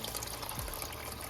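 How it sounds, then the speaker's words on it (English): Water pours into a cooking pot for dirty rice, a brief, soft, steady splashing stream heard close up with no talk. "Now I'm gonna add in"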